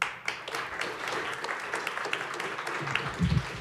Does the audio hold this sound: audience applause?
yes